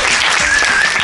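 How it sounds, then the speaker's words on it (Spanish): A live audience at a science talk about the LHC claps for Álvaro, a short, loud, dense burst of clapping with no speech. "Por favor, un aplauso para Álvaro."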